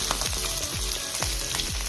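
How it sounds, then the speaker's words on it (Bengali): Fish fries in hot oil with a steady, dense sizzle, close and loud, with a few soft repeated stirring or scraping sounds and no voices. "মাছ ভাজা হয়ে গেছে।"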